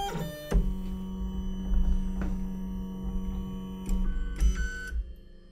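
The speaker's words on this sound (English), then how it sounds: "Now the Mini has a startup sequence and it will heat up the tool head and the bed." A Lulzbot Mini 3D printer begins its startup print sequence with a steady electrical hum and whine, punctuated by a few clicks and short motor buzzes and tones.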